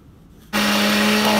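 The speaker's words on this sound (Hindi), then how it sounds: "मेरे पास हैंड ब्लेंडर है" After a half-second of quiet, a hand blender blending chutney with a little water switches on and whirs loudly and steadily, a constant motor drone that stays at full strength.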